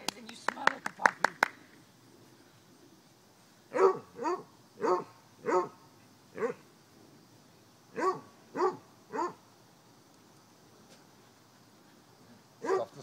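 Basset hound puppies give short, yappy barks while playing indoors, first a quick run of rapid yips and then spaced single barks and whimpers, close and moderately loud.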